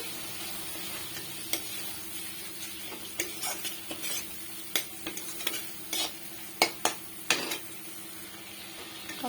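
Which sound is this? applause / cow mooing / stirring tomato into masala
stirring tomato into masala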